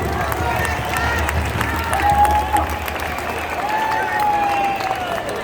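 A huge outdoor crowd at a Perth freedom rally applauds, a thick, steady wash of clapping and cheering that holds loud throughout.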